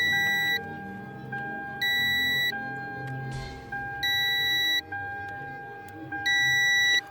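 A Toyota Camry's climate control beeps in a car, with four long, bright electronic tones repeating at a steady pace over lower chime notes. No one speaks.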